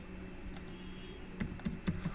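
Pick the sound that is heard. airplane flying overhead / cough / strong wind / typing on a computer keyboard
typing on a computer keyboard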